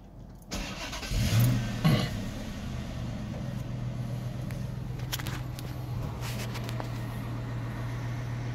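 A 2006 Dodge Magnum R/T engine, fitted with a new PCM after stalling problems, cranks briefly and catches, then settles into a steady, low, slightly high idle that hums on continuously, close by.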